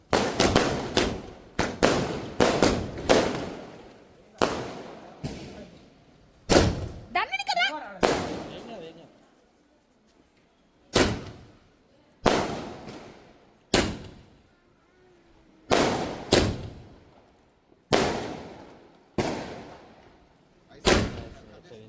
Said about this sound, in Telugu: కిందికి వచ్చి టపాసులు అయితే కాలుస్తున్నాము